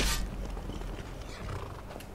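Horse whinny from Skyrim opens with a bright, loud burst, then fades into a steady bed of game ambience and low rumble; no talking.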